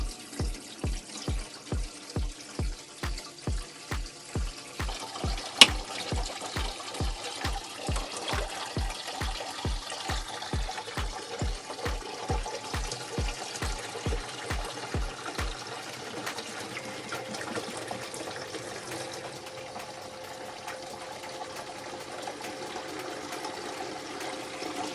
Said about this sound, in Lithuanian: prisipildžiau vandens